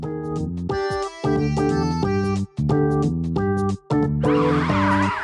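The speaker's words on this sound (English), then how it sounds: "Police car." A police car siren in a Lingo Kids vehicle stacking game plays as a loud, bright electronic wail in repeated bursts with short gaps, ending in a burst of noisy sparkle.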